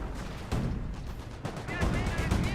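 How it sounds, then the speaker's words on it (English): A mortar half-track taking hits in Company of Heroes, with a few heavy artillery-like impacts thumping over continuous battle noise, while a commentator talks throughout. "Mortar half track gets hit"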